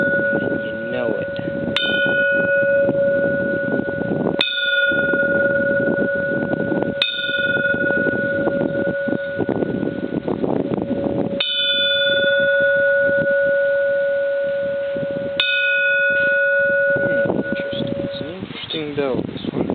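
A Japanese temple bell and a small tea ceremony bell are struck several times, each ring leaving a long, steady, loud resonant hum that carries through between strikes, with sharp bright onsets at each hit.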